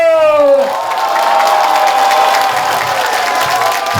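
An audience at a comic dance show bursts into applause and cheering, a dense roar of clapping and shouts that follows a voice's last rising call and holds steady to the end.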